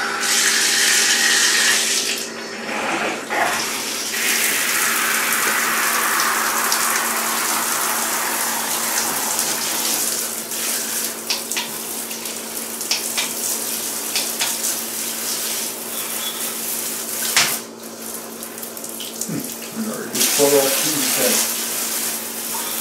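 A newly installed shower head sprays water at low pressure, making a steady hiss and splash that runs continuously, with brief clunks and knocks partway through.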